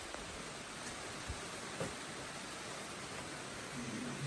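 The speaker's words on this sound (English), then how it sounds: "here comes the rain, so let's get under the cover of the roof" Rain falls at a wilderness trail shelter on the Appalachian Trail as a faint, steady hiss, with occasional soft taps against the roof and no voices.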